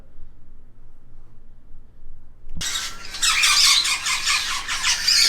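After a brief near-silent opening, a shop full of parrots for sale in Jeddah erupts into loud, continuous squawking and shrill squeals from several birds close by.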